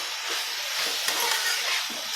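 Spicy eggplant curry stirred in a pan, a bright hissing sizzle with a few soft scraping strokes over a couple of seconds, close, without voices.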